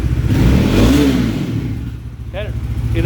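A Bajaj Dominar motorcycle engine revs up loudly and close, rising in pitch, then settles to a steady idle while someone talks over it.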